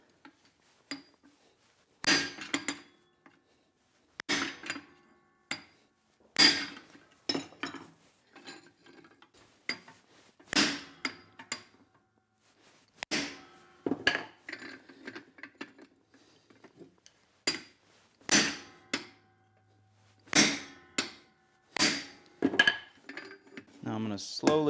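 A hammer forges hot steel between butcher dies while shaping a carving fork, giving sharp metallic clanks in irregular bursts with pauses between groups of strikes.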